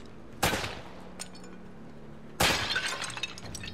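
Objects shattering when shot in Uncharted: Drake's Fortune: two loud breaking bursts about two seconds apart, each a sharp crack with glassy debris trailing off.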